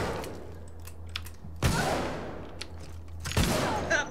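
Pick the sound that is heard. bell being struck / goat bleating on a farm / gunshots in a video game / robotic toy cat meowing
gunshots in a video game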